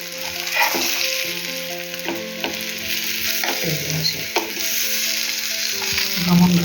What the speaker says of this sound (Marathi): आपण आता दोन्ही बाजूने चांगले फ्राय करून घ्यायचे आता आपण दुसऱ्या बाजूने पलटी करू त्यांना